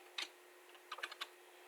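Keys clack on a computer keyboard while a comment is typed: a single tap, then a quick cluster of four or five light clicks, close and fairly quiet over faint room hum, with no talking.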